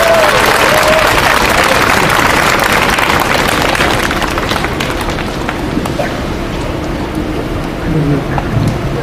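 Loud, dense applause from a large crowd at an outdoor Catholic protest mass in Korea, a roaring wash of clapping that swells early and then eases slightly while staying continuous.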